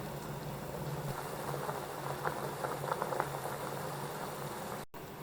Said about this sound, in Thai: เราก็ต้มน้ำให้เดือดนะคะ แล้วก็นำมานึ่งค่ะ